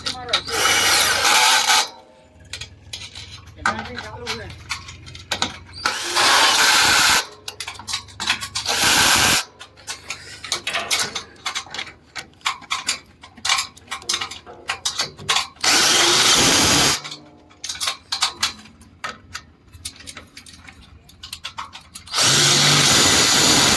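A power driver tightens Allen screws while a solar panel cleaning robot is installed, sounding in repeated loud whirring bursts of a few seconds each, with clicks and handling noise in the pauses between them.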